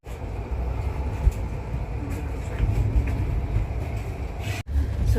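A passenger train bound for Mumbai rolls along at speed, a continuous loud rumble heard from inside the carriage, with a brief sharp dropout near the end and faint voices within the steady noise.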